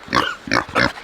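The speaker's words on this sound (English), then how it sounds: "Hey pigs!" Pigs housed on a homestead grunt in the rain, three close, loud grunts in quick succession with brief pauses between them.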